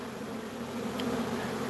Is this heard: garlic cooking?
no